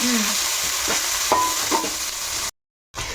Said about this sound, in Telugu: మధు ఇదిగో ఇలాగ ఉల్లిపాయలు ఇలా బ్రౌన్ కలర్ రావాలి